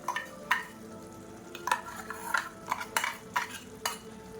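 Spoon stirring a drumstick and brinjal masala curry after coconut paste is added to the pot, a series of close, irregular scraping strokes with a soft sizzle underneath and no voices.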